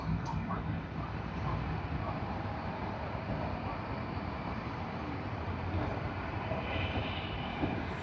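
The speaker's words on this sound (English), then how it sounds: "That's Delta DL41 from Los Angeles on the Airbus A350-900." A Delta Airbus A350-900 arriving from Los Angeles at Sydney Airport gives a continuous, fairly distant low jet rumble that stays even and unbroken throughout.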